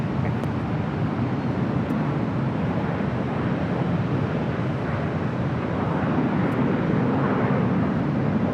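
Airplanes at Los Angeles LAX airport produce a steady broad jet roar, moderately distant and continuous, with no voices.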